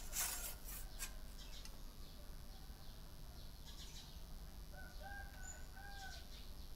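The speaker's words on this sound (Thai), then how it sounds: "พอดีวันนี้เสียงไก่ขัน" A rooster crows faintly in the distance in the early morning, a couple of drawn-out calls under a steady background hiss after some close rustling at the start.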